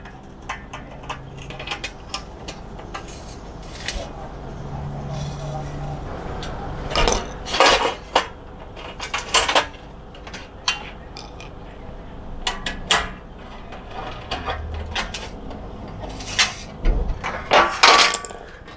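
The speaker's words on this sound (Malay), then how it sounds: "Untuk sambung dua rail ni kita akan gunakan rail connector ni. Kita lock dulu sebelah." Aluminium solar panel rails are joined with a rail connector, giving sparse metallic clinks and sharp taps at irregular intervals, louder clusters midway and near the end, over quiet background.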